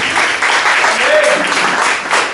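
A church congregation at a Sunday service claps as an offering to the Lord, a loud, continuous burst of applause filling the room, with a voice briefly audible within it.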